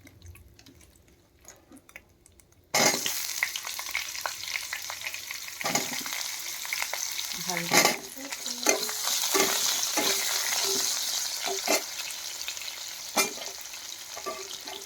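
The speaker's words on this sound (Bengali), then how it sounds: "এবার পটল কটা ভেজে নেব।" Pointed gourd (potol) fries in hot oil in a pan, a steady close sizzle that starts abruptly after a quiet moment, with frequent stirring clatters and brief crackles throughout; one short word is spoken.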